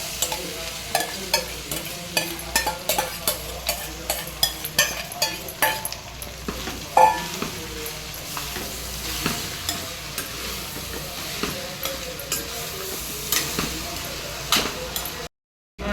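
Rice stirred into a sautéed pumpkin mixture in a pan, with a spatula scraping and scooping in steady repeated strokes over a faint sizzle, close and moderately loud, ending in a brief silence.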